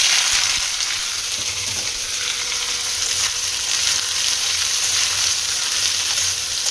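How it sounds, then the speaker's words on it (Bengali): Cumin, bay leaves and dried chillies crackle in hot oil as a loud, dense, continuous sizzle, with no talking. "এদিকে দেখো জিরে, তেজপাতা, শুকনো লঙ্কা ফোড়নে দিয়ে দিলাম।"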